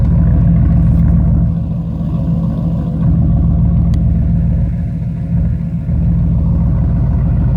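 A pickup truck engine idles steadily up close, a deep, even rumble with a slight rhythmic throb and no voices.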